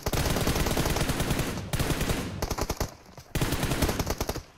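Rapid bursts of automatic gunfire in PUBG Mobile crackle in quick succession, loud and close, with short pauses between volleys.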